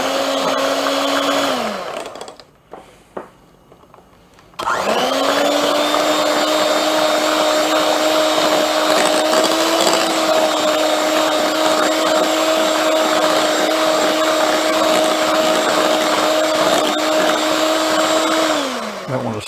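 An electric hand mixer beating banana bread batter of bananas and oil, a loud close whine that cuts out briefly and restarts, then runs steadily before winding down.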